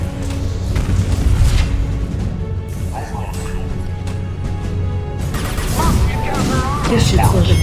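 Flashbang grenades going off in Mass Effect 2's Lair of the Shadow Broker DLC: loud crashing, booming bursts over continuous combat noise, with a fresh round of harsh detonations near the end.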